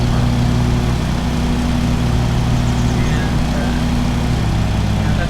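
A lawnmower engine drones steadily in the video game Lawn Mowing Simulator, cutting tall grass in the rain. The drone is loud and continuous with a low hum and no break.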